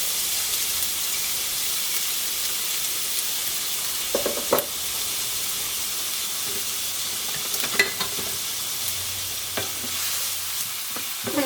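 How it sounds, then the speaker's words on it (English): Finely chopped half onion softening in olive oil in a warm pan, a steady bright hiss of sizzling, close, broken by a few brief stirring clatters and no talking. "we start with a warm pan with some olive oil, and we're going to soften finely chopped half an onion"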